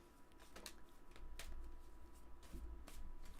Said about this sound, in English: We're going to get one more shuffle in here.